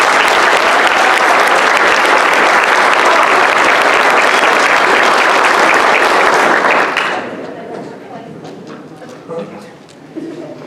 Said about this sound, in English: give these kids a big applause.